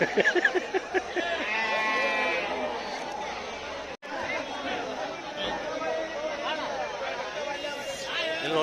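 Sheep and goats bleat repeatedly at a busy Sunday livestock market in Ranebennur, Karnataka, with overlapping crowd chatter and voices throughout, and one brief break near the middle.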